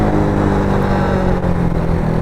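A Suzuki Axelo 125 RR geared scooter with a balance shaft runs smoothly at a steady, loud, close-up drone with even harmonics and no pauses.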